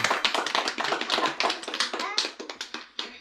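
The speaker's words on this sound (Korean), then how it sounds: "우리 영광과 감사의 박수를 하나님께 올려드리겠습니다" A church congregation claps in praise during a family worship service. Many hands strike in a dense, steady, fast patter, with some voices mixed faintly underneath.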